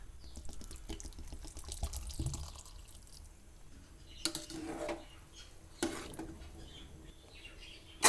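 Water poured in a short splash into a cooking pot of rice being cooked in a home kitchen, with dripping and a brief faucet-like trickle, fairly faint and alone.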